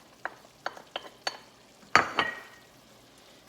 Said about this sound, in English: Meat is browning.